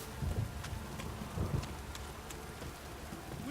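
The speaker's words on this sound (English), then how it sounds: "If it don't stop raining, my arse will rot off" A heavy downpour in the video game Witcher 3 hisses steadily at low level, with soft low rumbling thumps early on and no voices.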